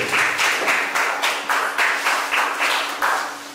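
A small audience at an entrepreneurial pitch event claps in an even, rhythmic pattern, about two beats per second, moderately loud and unaccompanied by talk.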